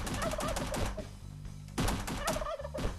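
Repeated synthetic turkey gobbles from the video game Stricken Chicken, in which a turkey wields an AK47, come in quick bursts over a pulsing game soundtrack with rapid percussive hits.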